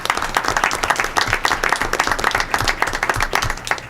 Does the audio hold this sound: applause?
yes